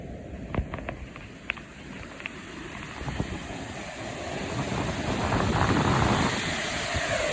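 Sea waves beside St Andrews Castle on the Scottish coast, a broad washing surge that builds toward the end, heavily mixed with gusty wind buffeting and a few faint knocks, with no voices.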